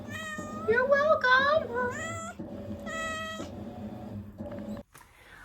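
A house cat meows several times in rising, drawn-out cries, loud and close, while a person speaks over and between the calls.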